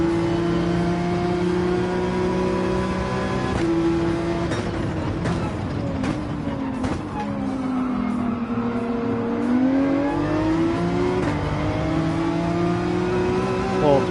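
A Ford Mustang race car in Gran Turismo 7 runs at full throttle, its engine holding a loud sustained note that dips and climbs again with shifts and cornering, with no talking.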